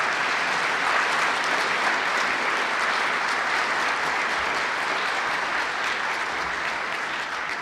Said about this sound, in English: can I have a round of applause for our very distinguished honor guard?